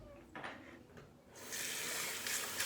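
Water gushes from a bathroom sink tap into a sink with a broken stopper, during a shave with Proraso Red and a Merkur 34C safety razor. A few faint splashes come first, then a steady, close rushing stream fills the rest.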